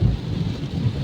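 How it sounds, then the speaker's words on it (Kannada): Heavy rain roars in a dense, steady wash during a road journey from Bengaluru to Mysuru, heard alone for about a second. "ಮಳೆ ಹಚ್ಚಿ ಹೊಡೆಯಾಕತ್ತೈತಿ ನೋಡ್ರಿ."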